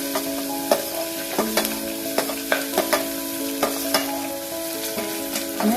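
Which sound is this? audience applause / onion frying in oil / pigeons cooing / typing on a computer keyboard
onion frying in oil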